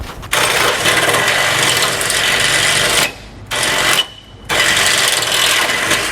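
A power drill whines loudly and steadily as it bores holes into the metal frame of a 2018 Mercedes-Benz, cutting out briefly twice before starting again, with no one talking.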